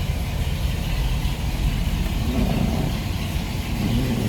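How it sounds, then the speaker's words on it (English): A 1964 Buick Riviera with a 425 V8 and dual quad carburetors idles with a steady, deep, close rumble that continues throughout without voices. "Nice little rumble out of that V8."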